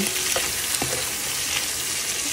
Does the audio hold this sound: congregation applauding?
no